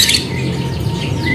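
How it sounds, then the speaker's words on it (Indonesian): Lovebirds at an Indonesian bird market chirp loudly and close, a dense run of sharp high tweets and squeaks over a busy background murmur. "ini tersedia dari burung lakbet."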